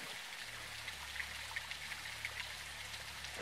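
Heavy rain in Call of Duty: Modern Warfare 2 (2022), a steady dense hiss of falling drops with scattered brighter patters and a low droning hum beneath, continuous and moderately quiet with no talk.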